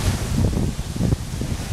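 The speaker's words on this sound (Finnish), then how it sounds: "vaikka täällä tuulee aika lujaa." Strong wind buffets the microphone at a lakeside cottage, a steady low roaring rush with gusty swells and no voices.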